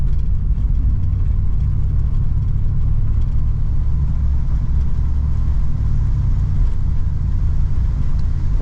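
A 1964 Oldsmobile 98 engine rumbles loud and steady as the car drives, its low drone continuous and close with no clear break between gears.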